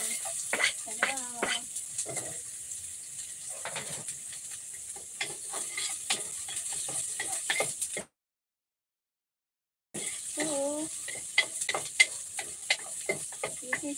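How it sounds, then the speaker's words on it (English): Garlic and onion sauté in olive oil with a steady close sizzle and hiss, broken by stirring scrapes and a voice speaking in short phrases, then a brief complete silence before the frying resumes. "I use this olive oil to saute my garlic and the onion."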